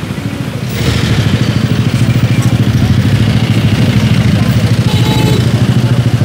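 Several motorcycles idle close by in a busy street during a clearing operation, a steady loud engine chug with rhythmic pulsing that holds throughout, with faint voices in the background.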